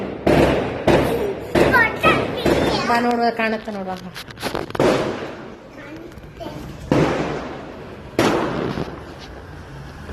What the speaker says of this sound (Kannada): ಅಯ್ಯೋ ಪಟಾಕಿ